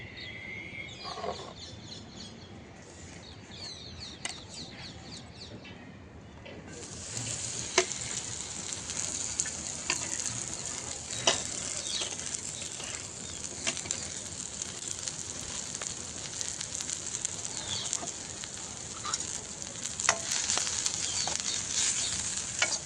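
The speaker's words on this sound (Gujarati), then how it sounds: "જુઓ આવું સરસ ઘી ગરમ થઈ રહેવા આવે એટલે તેમાં આપણે લસણ ઉમેરવાનું છે" Garlic, along with crushed ginger and green chili, dropped into hot ghee for a Gujarati dish. Quiet kitchen sounds give way to a sudden bright, continuous sizzle that stays strong, with scattered stirring clicks.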